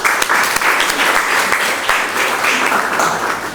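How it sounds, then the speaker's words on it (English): An audience at a lecture breaks into a round of welcoming applause, dense steady clapping from many hands filling the hall at close range, with a few sharper individual claps standing out. "Let us now join in giving a round of applause to welcome Shri Mohan Guruswamy"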